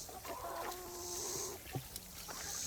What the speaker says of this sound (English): Anyway, here come chickens.